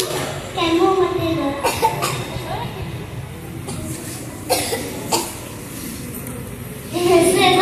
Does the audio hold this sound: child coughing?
yes